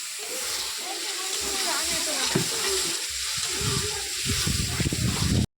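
Water hits a hot pan of cooking banana flower, raising a steady hiss and sizzle of steam that fills the clip, with soft stirring knocks underneath.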